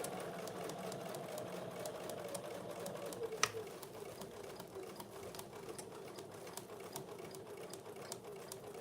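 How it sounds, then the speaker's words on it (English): A sewing machine bastes together the fabric layers of oven mitts, running in a steady, fast, even stitching rhythm that stays quiet and constant throughout with one brief sharper click near the middle. "I'm just actually basting all these layers together."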